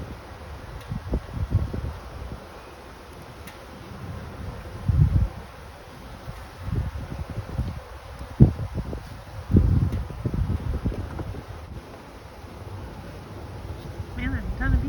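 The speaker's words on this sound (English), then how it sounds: "there's a ton of bees up there" Honeybees buzzing around a beehive during hive maintenance, a soft continuous hum under close rustling, handling noises and thumps, with occasional talk nearby.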